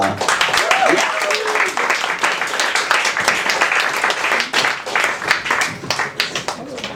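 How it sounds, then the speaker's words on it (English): An open mic crowd claps for the next act, a sustained round of distinct, fairly close hand claps that keeps going for several seconds, with a brief voice near the start. "Let's have a big round of applause for our next act"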